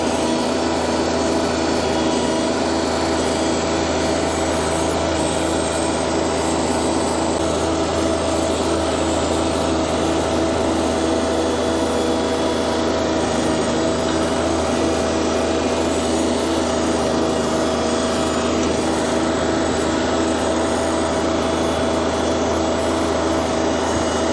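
Compact Steiner tractor pulling a landscape rake through loose, beach-like sand, with a steady, close engine drone and a faint scraping rattle running continuously and unbroken, without any talk.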